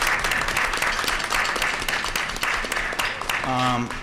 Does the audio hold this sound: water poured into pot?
no